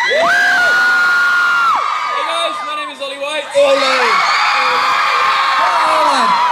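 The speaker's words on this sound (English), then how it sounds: "You guys are just cheering because of the accent." A large crowd at VidCon cheers, whoops and yells loudly and continuously, with children's shouts mixed in, while someone talks over the noise close to the microphone.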